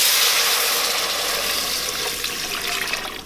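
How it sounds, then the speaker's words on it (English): Four cups of water pour into a pot with a continuous, loud, rushing splash that tapers slightly toward the end, heard close up with no voices. "and then you put the water."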